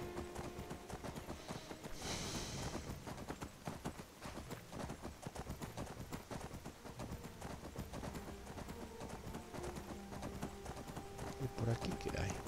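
Horse hooves clip-clopping at a steady riding pace in the video game Skyrim, a rhythmic run of soft thuds heard under someone talking, with a brief whinny-like burst early on.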